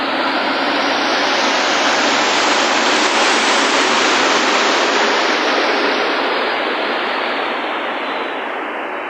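Deep floodwater rushes loudly and continuously across a flooded road, a dense, steady roar of torrent noise swelling slightly and then easing, with no voices.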